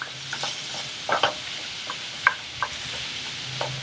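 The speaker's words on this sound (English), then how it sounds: "we got to break this ground beef up" Ground beef cooks in a pan for chili rellenos while a spoon breaks it apart. A soft sizzle runs under scattered scraping strokes and clinks against the pan.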